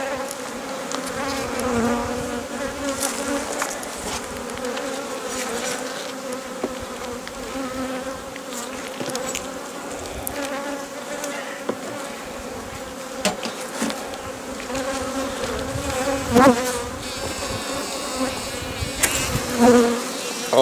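Honey bees buzz densely around beehive frames during an apiary inspection, a continuous close droning hum with individual bees passing near the microphone and occasional light knocks, with no talking.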